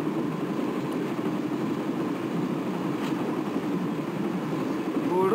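A steady, moderately loud rumble of a moving train in the video game Broken Sword: The Shadow of the Templars, continuing evenly with no break.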